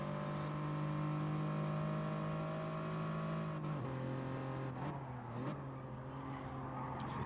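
Hyundai touring car in a BTCC-league racing video game at the Nürburgring GP circuit, a steady engine drone that dips and recovers through a couple of gear changes, heard alone at moderate level.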